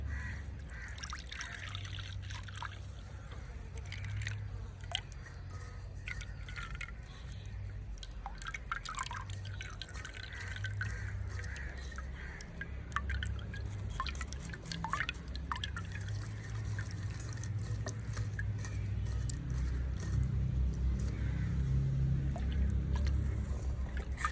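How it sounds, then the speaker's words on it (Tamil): Dissolved sugar syrup for aval halwa is strained, giving a steady trickling and dripping of liquid with scattered small drips and splashes over a low background hum, continuous for the whole stretch with no talking. "இப்போ வந்து சர்க்கரை நல்லா கரைஞ்சிட்டு இதை வடித்து எடுப்போம்"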